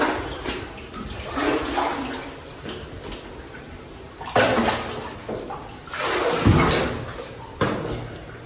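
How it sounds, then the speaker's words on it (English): Water dripping from the roof of a tunnel on a canoe trip around a lake loop, heard as irregular splashes and drops echoing over a wet, reverberant background. "There's water dripping from the top of the tunnel."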